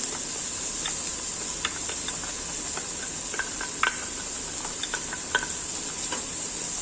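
Onions browning in a pan for a tripe stew (dobradinha) give a steady close sizzle and hiss, with small crackles and pops as garlic is added and the pan is stirred. No one talks.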